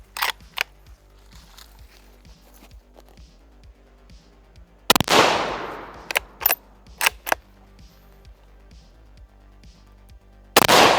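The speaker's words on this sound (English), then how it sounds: "now we're gonna step it up to 308, and hopefully it will go clean through." Rifle shots from cheap steel-case .308 Winchester ammunition fired at a safe: a series of sharp, loud cracks in an uneven rhythm, one heavier blast with a trailing roar, several quicker pops, and a final bang near the end.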